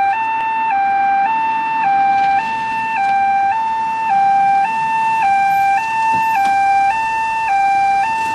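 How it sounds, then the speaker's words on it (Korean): Ambulance siren wailing in a steady two-tone hi-lo pattern, loud and close throughout with no voices, as an emergency vehicle arrives at a home. "앰뷸런스 왔어요."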